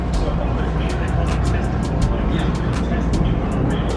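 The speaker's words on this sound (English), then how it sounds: "There's a rev up. Dang, that thing sounds nasty." A 2018 Honda Civic Type-R with a Greddy SP exhaust revving, a loud, sustained engine roar with a dense low rumble throughout, heard close up.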